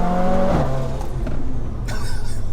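Mercedes A45 AMG with a 630bhp big turbo and screamer pipe, its engine revving loud and close, a strong falling rev sweep at the start settling into a steady rumble, then a sharp hissing burst near the end.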